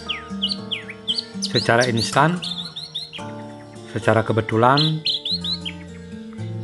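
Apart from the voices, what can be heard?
orange-headed thrush (anis merah) chirping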